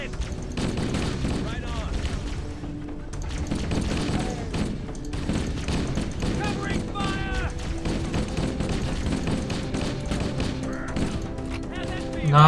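Gunfire in Halo: Combat Evolved on PC, dense bursts of shots and explosions layered with game music and effects throughout a busy firefight.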